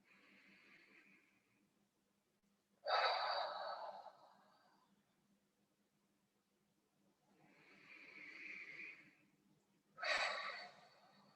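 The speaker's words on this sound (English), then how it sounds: "Deep breaths again." Slow, deep breaths during a breathwork session: two cycles of a gentle breath followed by a stronger, rushing exhale. The breaths are close and fairly soft, with quiet pauses between them and no speech.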